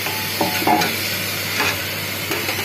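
Tomatoes, carrots and potatoes being stirred in a pan for vegetable pulao, a soft steady scraping and low sizzle with a few louder spoon strokes, close and alone.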